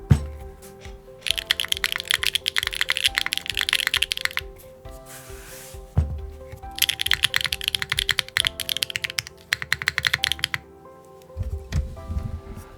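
Rapid typing on a Neo65 Core Plus mechanical keyboard, slightly raised off the desk, in two long bursts with a pause between, clicky and clacky keystrokes, fairly close, then a few scattered taps at the end.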